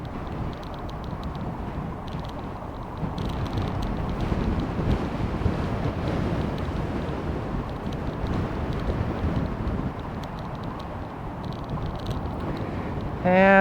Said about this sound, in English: The winds are very strong again today.